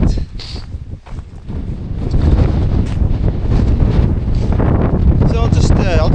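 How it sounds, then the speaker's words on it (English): Strong wind buffets the microphone at a winter wild camp by Angle Tarn in the Lake District, a loud continuous roar and rumble with gusts that build after the first couple of seconds. "Wind's coming from the south, or at least it was last time I checked."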